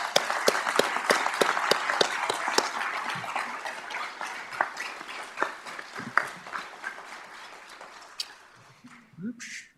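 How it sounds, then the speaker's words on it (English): Applause at a Fargo Police Department swearing-in and promotion ceremony, a moderate crowd clapping with distinct sharp claps standing out, gradually thinning and fading before a voice returns at the end. "Let's give them a round of applause,"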